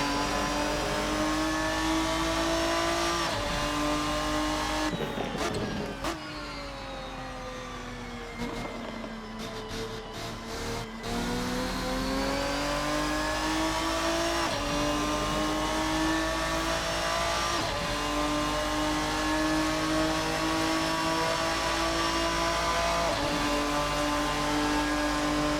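The Ferruccio 57 race car engine in a racing video game, loud and close, revs through rising gear pulls, drops off under a braking zone with a brief lull, then climbs hard again in sustained acceleration.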